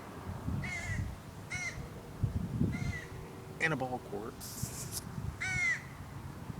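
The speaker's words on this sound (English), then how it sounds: "I spent a minute on bird sound effects" Crows caw in short repeated bursts, a handful of harsh calls spaced a second or so apart, heard in a park setting while someone talks quietly underneath.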